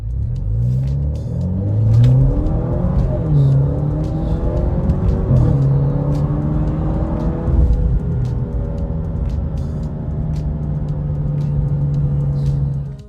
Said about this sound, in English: just watch this little clip and see how this thing rips down the road